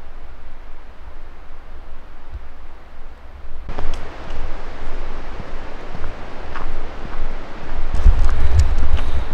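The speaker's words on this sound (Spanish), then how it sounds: "Ese barullo que se escucha acá al lado es el arroyo Goye" The Goye stream, fed by glacial meltwater, rushes beside a 14-kilometre ascending hiking trail as a broad, steady hiss of water that grows louder partway through and continues without pause.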